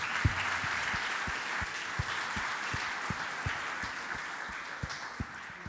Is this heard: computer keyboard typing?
no